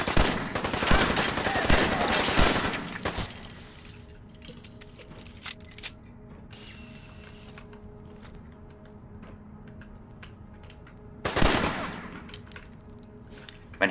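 Gunfire in the video game Fallout 4: a loud rapid burst of automatic fire at the start, scattered quieter shots and metallic clinks after, then another short burst near the end.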